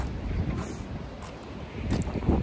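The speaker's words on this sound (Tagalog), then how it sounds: "Ang lamig sobra kasi yung hangin papunta dito pag ganun." Strong, cold wind at Busan's Haeundae and Gwangalli beaches buffets the microphone as a continuous rumbling roar with surges, loudest toward the end, with no talking.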